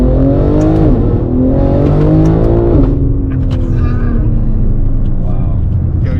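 A 1000hp BMW G80 M3 accelerating hard, its engine note climbing steadily through the gears with a brief dip at each shift, loud and close, as occupants talk over it.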